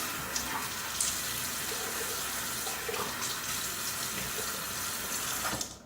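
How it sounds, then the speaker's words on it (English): A shaving brush is rinsed under a running tap, giving a faint, steady hiss of water with a few brief splashes, until the flow cuts off at the end. "Let me do a little rinse."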